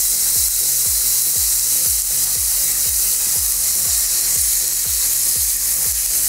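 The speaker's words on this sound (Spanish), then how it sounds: "Me gusta sofreír primero el tomate así para que no se me vaya a dañar la cebolla." Tomato sizzling and frying in a hot pan with paprika, a steady loud crackle joined by regular scraping stirs about twice a second.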